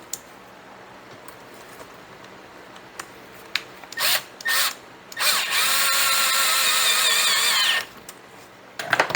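A power drill drives a screw into a chainsaw carburetor: a few short whirring bursts, then a sustained loud high whine for about three seconds before stopping, close and alone in a quiet room.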